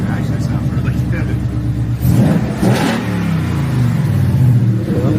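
A 2019 Mustang 5.0 V8 with its catalytic converters deleted revs up sharply from idle, the loud throaty exhaust rising and falling through a few blips close by, with people talking over it.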